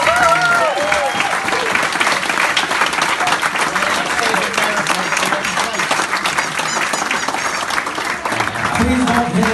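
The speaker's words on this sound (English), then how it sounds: "Give these guys a big round of applause." Dense audience applause fills the room loudly and steadily, with cheering and voices mixed into the crowd noise throughout.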